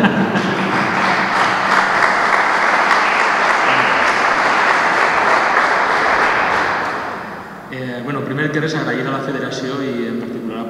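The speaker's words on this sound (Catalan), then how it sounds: "Puedo aplaudir-li si voleu" Audience at a CD presentation in Biar breaking into dense, loud applause that holds for about seven seconds before fading, after which a person speaks.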